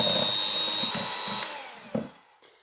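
An electric whisk beats four eggs in a bowl for chocolate brownies, giving a steady high motor whine with small clattering bumps as it moves through the mix, then it trails off near the end.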